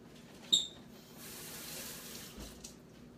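Kitchen faucet water running as frozen food is rinsed under it, a steady low hiss of flowing water that swells through the middle, with a brief clunk near the start.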